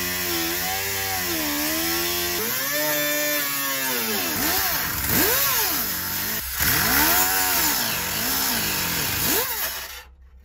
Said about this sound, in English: I'm just going to follow those holes with the grinder, start working our way up